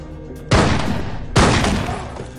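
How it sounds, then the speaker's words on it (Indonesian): Two loud gunshots, roughly a second apart, each a sharp blast trailing into a long echoing rumble. "Tak lama terdengar suara tembakan"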